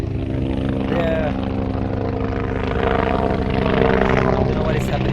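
A helicopter passes overhead above a potato farm in Manipur, a steady broad engine and rotor rumble running loud and unbroken throughout, with voices talking faintly over it.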